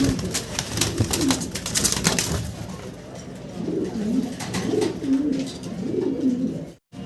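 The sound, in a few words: fancy exhibition pigeons cooing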